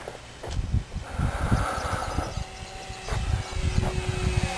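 A Mini Mag RC plane with a brushless motor flies overhead, its thin steady motor whine rising and fading slightly over a rough, wind-buffeted outdoor background.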